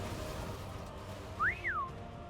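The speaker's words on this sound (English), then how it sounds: "You don't hear somebody whistling Final Fantasy every day." A person whistles a short Final Fantasy tune, one rising and falling phrase, clear and fairly close, over steady background noise during a game session.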